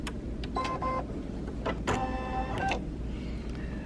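Home embroidery machine running a tack-down stitch for a Christmas advent calendar, with several short whirring, tonal motor bursts and mechanical clicks close by.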